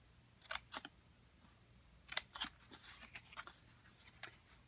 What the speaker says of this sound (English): at this score line, just cut a little notch on both sides.